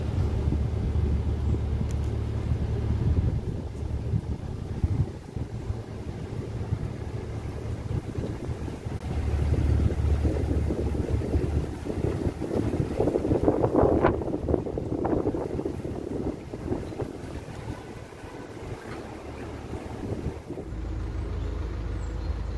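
A low, steady engine hum and rumble of a narrowboat chugging along, with soft wind noise and water sounds, no talking.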